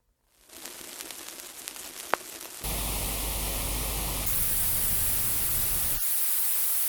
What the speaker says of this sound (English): 50s is clearly like a vinyl emulation, but a quite good one